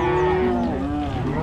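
Cattle being herded along a road let out a single loud, close moo that holds for over a second and bends in pitch near its end.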